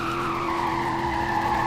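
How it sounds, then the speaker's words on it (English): A Ford Mustang GT in the Roblox game Greenville spins donuts, its tires giving a steady, continuous squeal over a low engine drone throughout, with no talking. "this thing can easily do donuts and all that"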